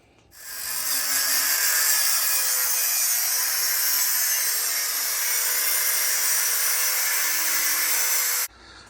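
A power tool cuts through the exhaust pipe of a Honda Element, a loud steady high-pitched grinding whine that starts abruptly, holds for about eight seconds and then stops.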